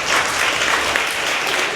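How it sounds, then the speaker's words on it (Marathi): A Class 5 class at a village school claps together, a dense, steady burst of close applause with no talk. "टाळ्या वाजवा सगळेजण"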